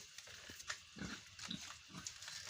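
Pigs on a farm in Assam grunt in a series of short, low snorts spread across the stretch, fairly close, with a steady barn hiss behind them and no talking.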